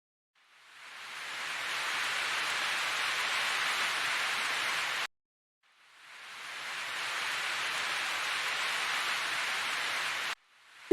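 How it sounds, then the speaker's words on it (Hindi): Steady rain falls in a village setting, a soft, even hiss that fades in, holds, cuts off abruptly, then swells and continues again before another sudden stop. "उस दिन के बाद कुछ दिन लगातार बारिश हुई।"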